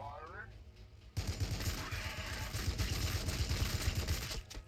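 Heavy big-gun fire in the Warhammer 40K Battlesector strategy game, a dense rapid burst of repeated shots sustained for several seconds at close range, loud throughout, with a brief speaking voice just before it starts.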